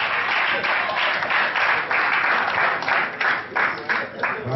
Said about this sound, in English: Can you clap the hands for this?